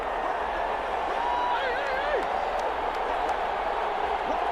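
A stadium crowd in a Madden football video game roars steadily as fans rise during a two-point conversion attempt, a dense, continuous wall of cheering beneath an announcer's commentary.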